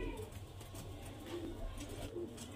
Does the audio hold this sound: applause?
no